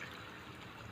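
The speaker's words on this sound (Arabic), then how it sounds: "هزودها بق ميه كده صغير" A small splash of water pours into a pot of zucchini as a faint, steady trickle, short and unbroken, with no voices over it.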